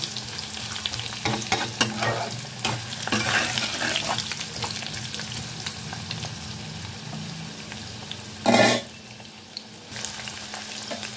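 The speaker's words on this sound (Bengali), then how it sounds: "আমি 3-4 মিনিটের জন্য আলুটাকে প্রথমে একটু ভেজে নেব।" Cut potatoes fry in an oiled pan, a steady close sizzle with intermittent stirring scrapes and one loud, brief burst of crackling near the end before the hiss settles lower.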